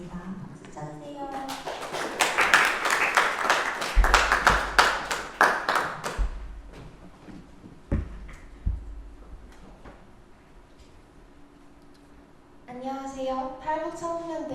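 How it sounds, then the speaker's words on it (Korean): An audience at a student social-innovation project presentation claps for a couple of seconds after a brief voice. The claps thin out into a few scattered hand claps before a speaker begins talking. "박수 쳐주세요"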